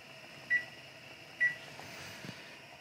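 A kitchen timer is set for fifteen minutes while quinoa simmers on a stove, giving two short, sharp electronic beeps about a second apart over a quiet room hum.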